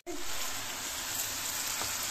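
Kashmiri chili for chicken karahi hits hot oil and sizzles loudly and steadily at close range, a continuous bright frying hiss with no talk.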